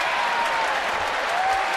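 A baseball crowd at a Giants vs Cardinals game in San Francisco applauds continuously, a broad, distant wash of clapping and cheering from the stands with no break.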